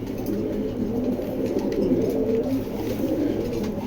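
A big red checker pigeon coos nearby in soft, low, rolling throaty murmurs that run continuously for a few seconds, with no talking.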